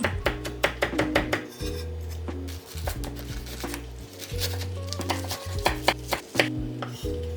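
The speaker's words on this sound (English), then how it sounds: "Cut the spicy pepper and the red pepper finely." Knife finely chopping spicy pepper and red pepper on a board for a Korean vegan dish, repeated crisp close taps in quick irregular runs, with soft background music throughout.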